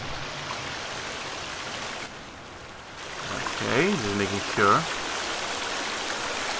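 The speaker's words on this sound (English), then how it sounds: "that waterfall sound is literally everywhere" Steady rushing water from a waterfall in the video game The Forest fills the background, continuous and broadband, while a person speaks briefly over it.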